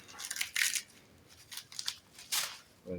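Crinkling plastic packaging is torn and unwrapped from a new shock absorber hardware kit, several sharp rustling bursts close by with short pauses between them.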